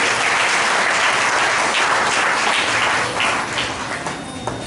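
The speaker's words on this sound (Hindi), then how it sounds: "आइए हम जोरदार यीशु के लिए ताली बजाएंगे" A church congregation breaks into sustained, dense applause in praise of Jesus during a service, a steady roar of many hands that tapers off slightly toward the end, with no voices over it.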